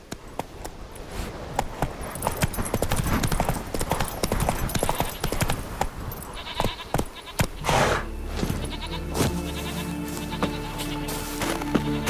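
Horse hooves clip-clop at a steady trot in The Witcher 3 on the islands of Skellige, a dense, rapid rhythm of close hoof strikes that thins out as livestock-like bleats and game sounds take over.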